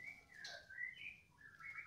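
Bright, clear birdsong of a white-rumped shama, varied whistled phrases and trills, fairly close and continuous, with no voices.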